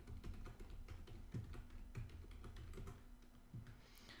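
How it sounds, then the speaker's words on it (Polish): Someone types a password on a computer keyboard while installing Arch Linux, producing a quick, close series of soft key clicks and taps with short pauses between them. No one speaks. "Wpisujemy swoje hasło."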